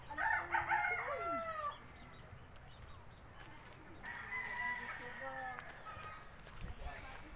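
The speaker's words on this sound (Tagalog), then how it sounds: "fighting cocks here owned by my relatives here in Bonbon." Fighting cocks crow repeatedly at a relatives' place in Bonbon, long rising calls at medium distance, one early and another midway, over quiet outdoor ambience with scattered clucks.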